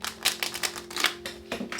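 Quick crisp riffling and tapping of cards being shuffled, a rapid burst of clicks with a short pause before a final flurry.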